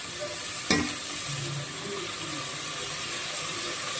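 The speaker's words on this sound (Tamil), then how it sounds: "இதை 2 நிமிஷத்துக்கு வதக்கி" Mixed vegetables for vegetable biryani sauté in a pan on a home stove, giving a soft, steady sizzle with one sharp clink of a utensil early on.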